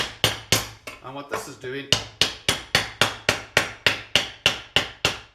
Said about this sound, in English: it's just giving that extra bang in with the hammer, tighten them back in place